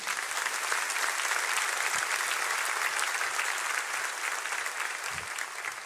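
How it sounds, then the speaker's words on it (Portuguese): A church congregation claps continuously, a dense steady applause filling the space for several seconds. "Você pode aplaudir ao Senhor."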